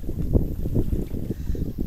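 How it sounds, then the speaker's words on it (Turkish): Wind buffets a microphone beside a river at a family tent campsite, low rumbling gusts with soft lapping water, close and uneven, with no voices. "rüzgar, dalga"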